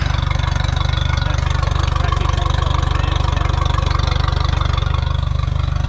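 Outboard engine on a Makocraft 445 Commander Pro boat with a four-blade, four-pitch prop, running steadily at about half throttle, a loud, even, close drone with a rapid low pulse.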